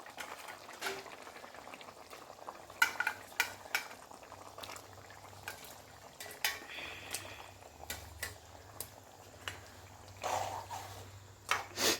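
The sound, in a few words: cut mackerel added to simmering curry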